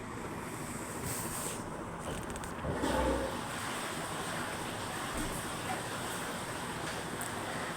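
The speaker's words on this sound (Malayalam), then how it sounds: "ഇനി ഇതുപോലെ ഒന്ന് തിരിച്ച് മറിച്ചിട്ട് 2 സൈഡും നന്നായിട്ടൊന്ന് മൂപ്പിച്ചെടുക്കാം" Netholi anchovies fry in hot oil, giving a steady, faint sizzle with a brief clatter as the fish are flipped to crisp both sides.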